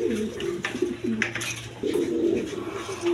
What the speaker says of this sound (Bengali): এইখানে এক পেয়ার গররা কবুতর আছে